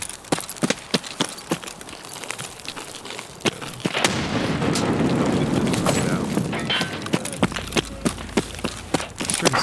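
Grenade detonating in a first-person shooter game, a loud blast with a rumbling tail in the middle, surrounded by sharp repeated gunshot-like cracks, with no voices.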